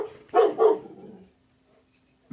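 A dog barks twice in quick succession, loud and close, in a dog-friendly distillery workplace during an interview recording, followed by quiet with a faint sound at the very end.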